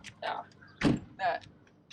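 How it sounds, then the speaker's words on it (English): A cargo trailer door with a rounded roof is pulled down, giving a couple of rolling, rattling thumps and a heavier clunk, close and fairly loud between brief bursts. "And the door will come down like"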